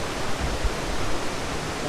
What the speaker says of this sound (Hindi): वाटरफॉल जो है वो यहाँ से नीचे लगी दिखते हैं